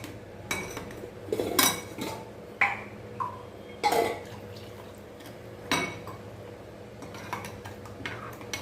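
A spoon clinks repeatedly against the sides of a metal or ceramic vessel in irregular bursts while stirring bisibelebath spice powder into water, with faint liquid swishing between taps.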